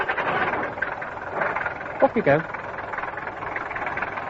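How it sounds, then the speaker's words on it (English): A taxi engine runs as a sound effect in a science fiction radio play, a low steady idle rumbling beneath someone speaking. "Engine."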